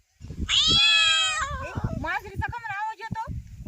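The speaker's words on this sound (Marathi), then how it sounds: "तुला मांजराचा आवाज आला" A cat meows loudly with a long, drawn-out wail, followed by a few shorter, wavering meows, close and clear.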